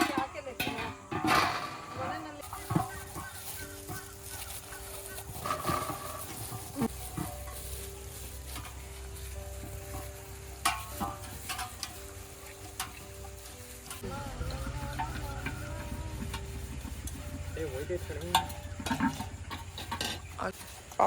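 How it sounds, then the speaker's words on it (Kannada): Pots being scrubbed and washed by hand with tamarind and soap in a village home, giving a steady gritty scraping and swishing that runs almost throughout, with faint voices and household noise in the background. "ಫಸ್ಟ್ ಇಲ್ಲಿ ಹುಣಸೆ ಹಣ್ಣು ಸೌರ್ಕೊತಾ ಇದ್ದೀವಿ, ಆಮೇಲೆ ಹುಣಸೆ ಹಣ್ಣು ಮತ್ತು ಸಬೀನ ಹಾಕಿ ತೊಳ್ಕೊತೀವಿ"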